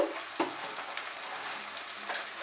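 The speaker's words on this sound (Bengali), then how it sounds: "মশলাটাকে ফ্রাই করব 2 মিনিট মাঝারি আঁচে" A spice masala of cumin, coriander, Kashmiri red chilli, turmeric and salt fries over medium heat in a pan, giving a steady soft sizzle with a sharp stir or clink near the start and another near the end.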